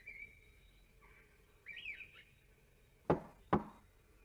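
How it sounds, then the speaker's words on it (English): Two sharp knocks on the little wooden door of a cottage, spaced about half a second apart, come after faint bird chirps and whistles in a quiet outdoor setting. "She knocked on the door."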